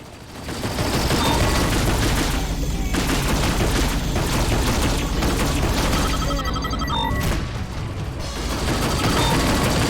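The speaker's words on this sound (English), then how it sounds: "Missile away." A missile fired from a spaceship in Rebel Galaxy Outlaw, surrounded by a loud sustained barrage of rapid space-combat blasts and booms lasting the whole stretch, with brief electronic beeps near the end and little talk.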